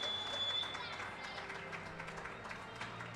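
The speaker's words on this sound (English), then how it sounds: "she gets a beautiful round of applause" Arena crowd at a Canada vs USA International Blind Hockey Series game applauding during a victory lap, a broad wash of clapping and cheering heard at a distance, fairly faint, under a commentator's voice.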